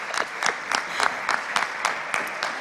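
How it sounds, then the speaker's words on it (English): Applause from an audience at a live event as a speaker is introduced, heard as a rhythmic run of fairly close claps at a steady pace, mostly on its own with little crowd noise. "Please a big applause for Federico."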